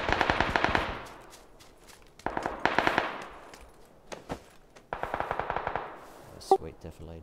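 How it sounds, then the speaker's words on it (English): Automatic gunfire in the PUBG battle royale game comes in three separate rapid bursts, with a pause between each. A single sharp shot follows near the end, and all of it is close and fairly loud. "he's shooting at someone else behind him"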